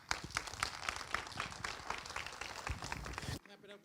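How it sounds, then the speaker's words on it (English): Audience applause and clapping after a speaker-series talk honoring loved ones, a dense wash of many hands under a voice before ending abruptly. "Clap it up one more time for these wonderful, wonderful loved ones"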